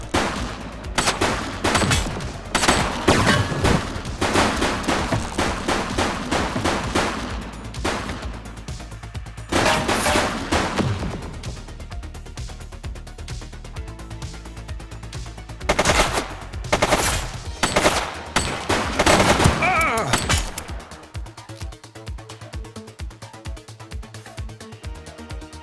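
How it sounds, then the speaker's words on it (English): Gunfire in The Precinct: rapid bursts of loud automatic shots in repeated volleys, with brief pauses between them and a lower rumble near the end. "He's shooting!"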